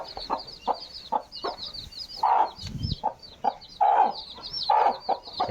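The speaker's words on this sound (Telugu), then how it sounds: "బుజ్జు బుజ్జు కోడి పిల్లలు" Baby chicks peep constantly in high chirps while a hen clucks low and repeatedly nearby.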